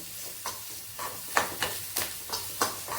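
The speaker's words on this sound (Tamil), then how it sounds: "நம்ம ஒரு கிண்டு அவ்வளோதான் ஆஃப் பண்ணிவிடுவோம்" Mango pachadi with curry leaves stirred in a hot pan: a quiet bed of sizzling broken by about seven scraping stirring strokes in a loose, even rhythm, close by with no talking.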